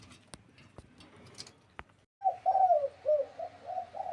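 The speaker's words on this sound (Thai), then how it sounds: "มาฟังเสียงขันโจนกันครับ" Decoy dove cooing, a series of soft, rolling coos in the second half, close and fairly clear, preceded by a quiet stretch with a few sharp clicks and ticks.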